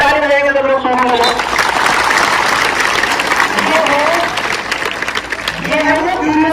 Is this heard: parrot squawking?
no